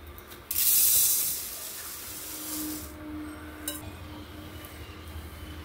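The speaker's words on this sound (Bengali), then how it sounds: "তো আগে চালটা ধুয়ে ভাতটা বসিয়ে দেব।" Water gushes into a pot as rice is washed before cooking in a home kitchen, a loud splashing burst that settles into a softer hiss, with a few light clinks of metal.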